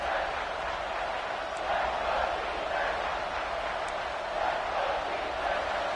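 Football stadium crowd roars in a broad, sustained wash on a third down, a loud continuous cheer with no breaks.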